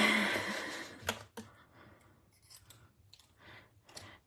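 Scissors snip around a cut-out shape for a blue cake-eating monster, with a few crisp close cuts and scattered light clicks and rustles.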